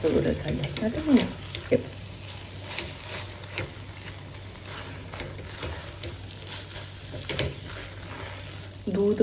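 Milk-based bottle gourd halwa cooks down in a pan, giving a soft sizzle with scattered scraping and stirring clicks of a spoon against the pan, close by and fairly quiet.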